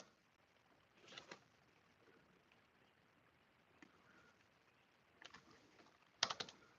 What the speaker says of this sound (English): Sorry, I'm typing the thing here.